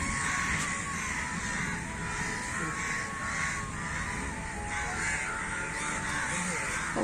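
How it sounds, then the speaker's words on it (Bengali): Crows circle in the sky above a rooftop, cawing again and again in harsh repeated calls over a steady breezy background, moderately close and fairly loud with no speech. "এতক্ষণ আকাশে কত কাক উঠছে আর এটা দেখছে"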